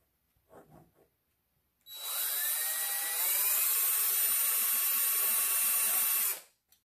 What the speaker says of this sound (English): now we're just going to drill